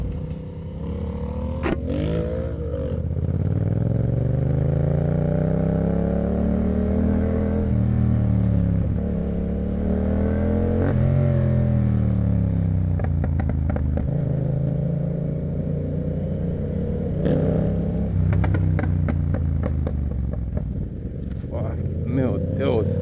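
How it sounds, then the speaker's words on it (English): A car engine revs and roars loudly and continuously, its pitch rising and falling with acceleration, while people talk over it. "the exhaust is going mental"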